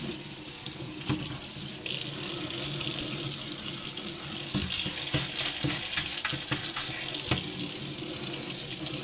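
Water from a running tap splashes into a fermentation crock as it is rinsed out after making kimchi, a steady rushing stream with occasional knocks and clatters, moderately close and without talk.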